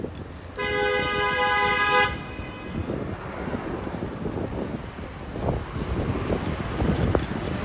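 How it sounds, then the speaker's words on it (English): A car horn blares once in a single long, steady honk at a cyclist on a Brooklyn street, loud and close over heavy wind noise and passing traffic that continues afterward. "You're gonna honk at me?"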